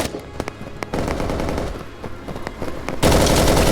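Machine gun fire in the video game Operation: Harsh Doorstop, a desert battle between US and Soviet forces: separate sharp shots, then sustained automatic bursts that swell into a louder, denser volley near the end.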